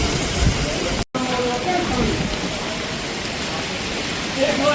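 Heavy rain and a torrent of water pouring across a mountain pilgrimage path on the Vaishno Devi route, a dense steady rushing hiss throughout, broken once by a brief dropout.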